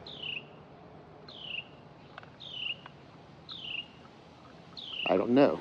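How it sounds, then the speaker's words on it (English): A bird repeats a clear descending chirp about five times at a regular rhythm, fairly close. A brief burst of talking comes in at the end. "What kind of bird is that?"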